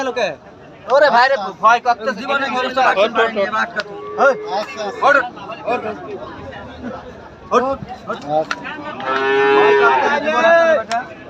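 Heifers of an improved breed moo repeatedly at the Aronkola livestock market, loud, drawn-out close calls that come one after another over a busy background of voices and chatter.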